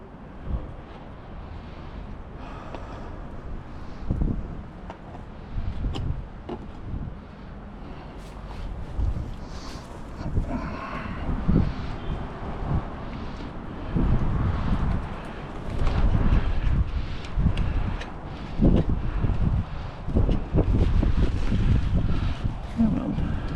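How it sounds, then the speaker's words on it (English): Outdoors beside a Honda Rebel 1100 DCT motorcycle, wind buffets the microphone in low, rumbling gusts that swell and drop irregularly, with occasional handling noises. "fucking wind."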